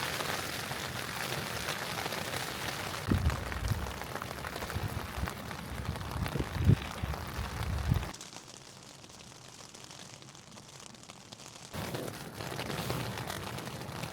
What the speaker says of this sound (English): I don't have any issue with the rain, it's just the wind.